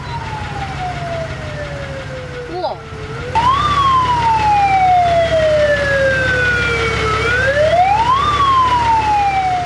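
A fire engine siren wails in long, slow rising and falling sweeps, loud and close, after a brief exclamation from someone nearby.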